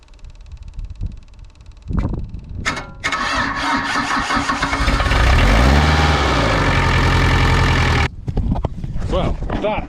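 A Nissan N350 excavator's diesel engine cranks and catches, then runs with a loud, steady mechanical roar close by before cutting out, a voice heard near the start.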